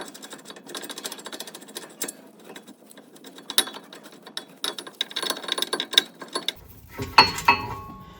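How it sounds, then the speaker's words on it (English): A 1/2-inch breaker bar loosens the brake caliper bolts on a 2016 Mazda6, giving close, irregular metallic clicks and ratcheting clacks that build to sharper knocks near the end, with no talk. "this is where we're going to need our 1/2-inch breaker bar"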